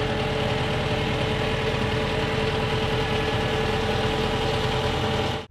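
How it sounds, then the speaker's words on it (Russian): A mini loader's engine runs hard and steady at high revs as the bucket is raised, a loud continuous mechanical drone close by that cuts off abruptly at the end. "Нажимаем на газ и поднимаем ковш."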